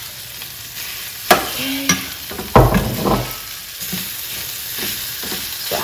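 Onions and green peppers fry and get stirred in a pan, with loud scraping knocks and bursts of sizzle over a steady crackle and a brief spoken word near the end.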